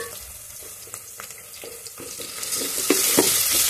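Ginger, garlic and coriander paste frying in a pan while being stirred, a wet crackling sizzle that builds louder toward the end with scattered clinks of a spoon, no voices present.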